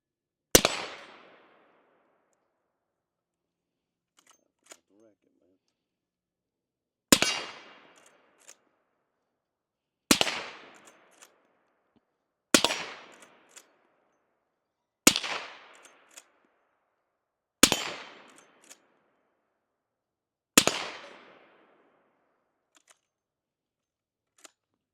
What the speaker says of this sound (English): let him shoot it for a second